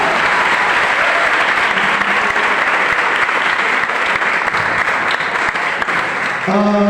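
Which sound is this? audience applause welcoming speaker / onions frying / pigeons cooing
audience applause welcoming speaker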